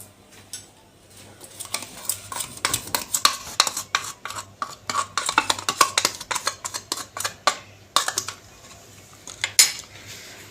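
A spoon scrapes and clinks against a bowl while mixing lemon, spices and yogurt for a breaded escalope marinade, in quick, uneven strokes that pause briefly before resuming.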